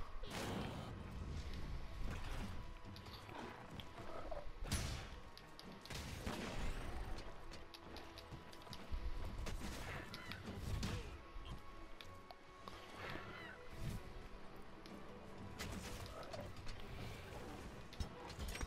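Gunlance charged attack striking a monster in Monster Hunter: World, a dense game mix of heavy impacts, crashes and thuds over continuous battle noise and music.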